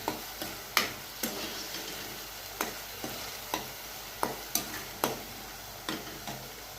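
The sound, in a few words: eggplant roasting in oil in a pan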